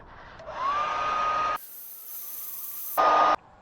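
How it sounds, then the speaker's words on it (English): A hair dryer blows steadily at close range, drying a car emblem rust repair, cutting off abruptly, then starts again with a brief loud burst before stopping. "we're going to hit that with the blow dryer again, get it really dry"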